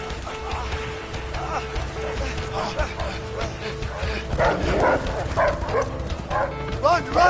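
Dogs bark in the A Way Out video game, a string of quick, sharp barks at mid distance that grow louder and denser toward the end, mixed with voices and game noise.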